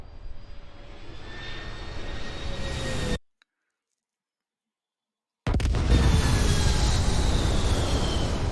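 A spaceship's engine roars steadily during landing in the video game Starfield, cuts to total silence for about two seconds, then returns louder and fuller, with no talking.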